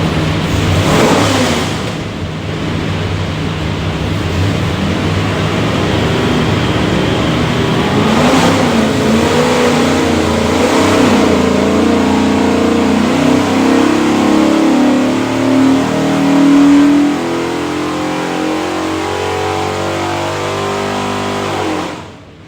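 A 534 hp 427ci small-block Ford V8 with a custom-grind hydraulic roller cam, built for a '69 Mustang, runs on an engine dyno, roaring loud and close as it climbs through a long sustained pull before dropping back.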